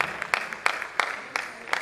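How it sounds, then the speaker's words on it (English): Scattered audience clapping at a World Mental Health Day event, a few distinct claps spaced through the moment, fairly faint and sparse rather than a full ovation. "Please keep clapping"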